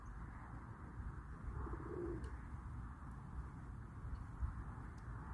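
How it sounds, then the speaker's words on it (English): Pigeons cooing softly alongside other birds outdoors in nature, low and steady under a faint breeze, with no talking. "A few pigeons, a few other birds."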